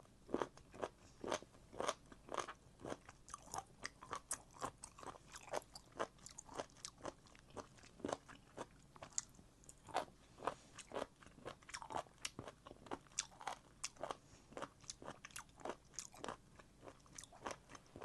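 Repeated crisp crunching as someone chews abalone, served in a seafood meal alongside skewered fish cake, with close, steady bites and crackles continuing throughout without any talk.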